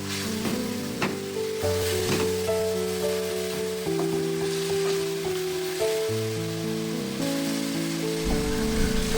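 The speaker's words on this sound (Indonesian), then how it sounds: "Lanjut ini kita aduk lagi agar tercampur merata." Steady sizzling from a hot pan as chicken with sweet soy sauce is stirred and scraped, continuous and close, with tonal hums layered underneath throughout.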